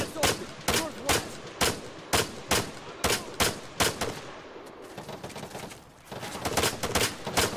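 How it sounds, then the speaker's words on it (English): Rapid bursts of gunfire during a video game combat mission, with sharp repeated shots in quick rhythmic volleys, loud and close, a brief lull, then more shots. "Incoming fire."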